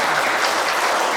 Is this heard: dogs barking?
no